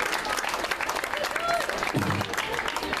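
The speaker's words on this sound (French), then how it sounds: "On peut les applaudir très très fort" Crowd applause at a prize-giving for an amateur singing contest, continuous clapping throughout with scattered voices and cheers mixed in.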